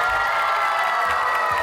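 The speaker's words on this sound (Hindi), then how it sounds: "बहुत सी तालियां बजा दीजिए उस भाई के लिए।" A studio audience at a televised game show claps and cheers in a brief, dense burst of applause with scattered whoops, loud and close, with no voices on top.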